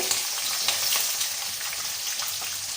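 Peanuts and onion frying in hot oil for potato poha, a dense continuous sizzle with soft crackling pops, near and steady, alone.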